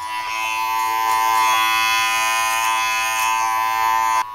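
Electric hair clippers with a 1.5 guard hum steadily and close up while tapering the sides of a haircut, a bright, even buzz that cuts off abruptly at the end.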